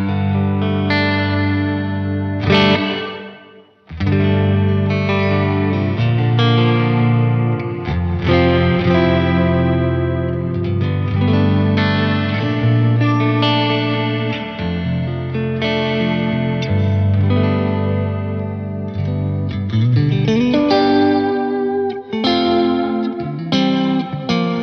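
Electric guitar run through a Keeley Caverns reverb/delay pedal on its modulated reverb setting, with chords and melodic lines swimming in wavering ambient wash, loud and continuous, briefly dropping out near the start.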